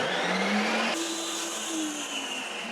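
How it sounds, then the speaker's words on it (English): A Ninja CREAMi ice cream maker spinning frozen blueberry protein ice cream, a loud steady motor whine close by that shifts pitch as the blade engages. "At this point, I turn on the machine."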